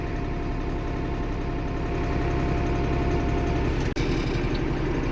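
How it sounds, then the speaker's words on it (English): Steady, loud tractor engine droning close by while hay rings are set for cattle, with a constant low rumble and no speech. "I don't ever get off the tractor."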